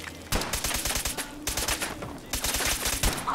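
Gunfire in the video game Fallout 4, rapid bursts of loud, close shots in quick sequences separated by short pauses.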